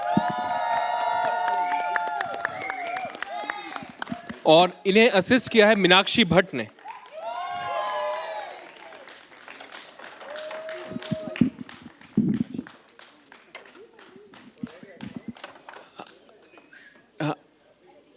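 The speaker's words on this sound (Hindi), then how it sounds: "जोरदार तालियां डायरेक्टर के लिए।" At a theatre workshop culmination day, an audience claps and cheers for the director of a Hindi play, bursts of applause rising between stretches of announcer speech over a microphone, with crowd noise swelling midway.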